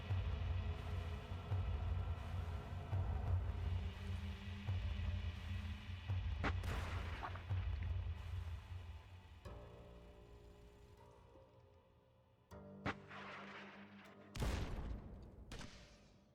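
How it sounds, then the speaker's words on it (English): Rockets firing and exploding in a Fallout: Nuclear Sunset game fight, a rumbling barrage of blasts with sharp bursts near the end and quieter gaps between. "Rockets versus rockets."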